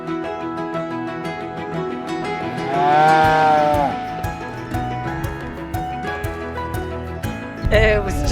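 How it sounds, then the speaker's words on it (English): Longhorn cattle low and moo during a cattle drive, with riders moving through the herd on horseback; the calls swell loudest midway, blended with a continuous tonal background and some voices. "you just ride along and listen to the cattle"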